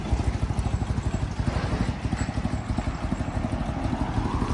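A classic BMW R75 motorcycle, restarted after two years unused, idles with a close, steady, rapid low pulsing thump and light mechanical clatter, running alone at moderate loudness.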